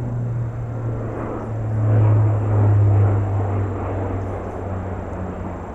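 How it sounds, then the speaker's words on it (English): A steady, low propeller-plane drone as a cargo plane passes overhead at an air show, swelling louder in the middle and then easing off, with no voices. "There's the cargo plane coming over."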